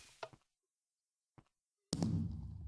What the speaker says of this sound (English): And then we put it in the dispenser and boom!